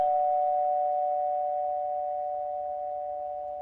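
A steady electronic telephone tone sounds as one continuous unbroken note, clear and moderately loud, fading slightly over a few seconds with no talk.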